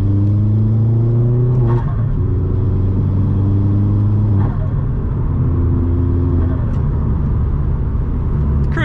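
A Vauxhall Astra VXR drives along an open road, its loud engine droning steadily with rising and falling revs through gear changes, heard from inside the car.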